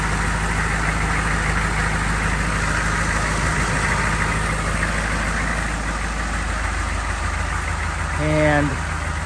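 CUCV M1028 military truck engine running steadily at idle, a continuous low rumble with a brief louder rev near the end.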